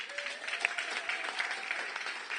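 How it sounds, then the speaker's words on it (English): An audience at an accelerator demo day claps for a startup team coming on stage, with sustained, fairly dense applause throughout and a faint voice underneath. "clap it up for the squad."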